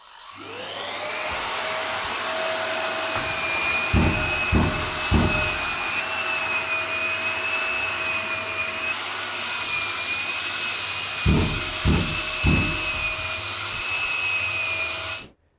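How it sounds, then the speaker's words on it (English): A drywall sander with an attached vacuum runs with a steady, loud motor whine and airy roar, broken by a few clustered thumps as it works the wall. "Now that we've finished sanding the walls,"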